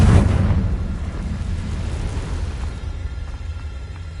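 A Confringo blasting spell goes off in Hogwarts Legacy, a loud low explosive boom at the start that decays into a sustained rumbling roar, heard alone.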